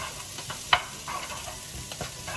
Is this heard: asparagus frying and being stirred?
yes